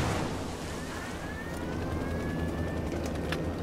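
Apache attack helicopter in the video game Ghost Recon Wildlands, heard as a steady rotor and engine drone with a rising whine sweeping across it, fairly distant and continuous throughout.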